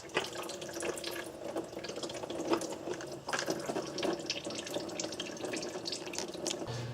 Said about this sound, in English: You're going to have some oil coolant inside the block, so just let that drain.